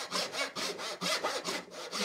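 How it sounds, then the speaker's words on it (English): A hand saw cuts through wood held on a bench hook in steady back-and-forth strokes, about four per second, each a rasping whoosh, close and clear with no talking. "you can just cut everything by hand"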